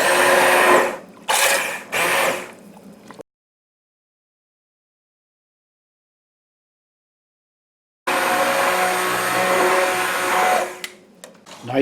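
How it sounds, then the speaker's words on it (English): An immersion blender purees pumpkin soup in two loud bursts, a short whirring run at the start and a longer steady whirr near the end, separated by several seconds of silence. "Now you're going to take an immersion blender."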